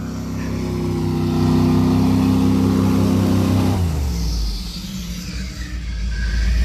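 A supercharged engine revs hard at a sustained high pitch, then drops sharply to a low idle rumble about two-thirds of the way through. The sound is loud and close, with no talk over it.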